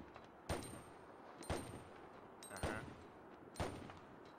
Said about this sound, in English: I'm going to shoot.